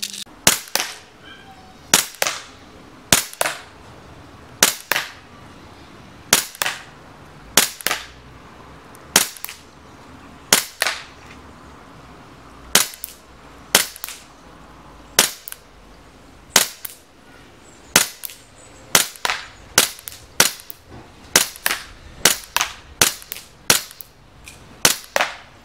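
An ICS BLE Alpha airsoft pistol fires green gas with 0.25 gram BBs. The sharp, loud cracks come one at a time in a steady string of about twenty-five shots, with brief gaps between them.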